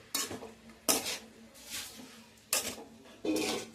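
A utensil stirs kolmi greens and potatoes frying in a pan over a low flame, making four distinct scraping strokes against the metal, close and clear with quiet gaps between them.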